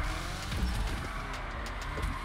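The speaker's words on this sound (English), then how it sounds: "Oh my god, spun out already." A car spins out in GTA 5, a continuous close engine roar mixed with scrubbing tire noise over a couple of seconds, with no talking.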